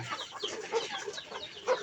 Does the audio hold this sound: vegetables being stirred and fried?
no